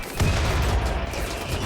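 Dense, continuous gunfire from the video game RimWorld, a loud rumbling barrage of overlapping shots with no clear gaps.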